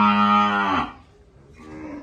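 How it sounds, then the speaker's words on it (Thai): A cow on a Thai cattle farm gives one long, loud, close moo that falls in pitch and breaks off after about a second, followed by soft background noise and a brief distant sound. "ซื้อวัวโครงมาครับ"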